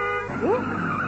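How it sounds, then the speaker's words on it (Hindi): A car pulling up in a 1994 Indian TV sitcom scene, a brief engine and tire sound with a short squealing glide, close and moderately loud against a steady background hum. "ये तो मेरी गाड़ी की आवाज है"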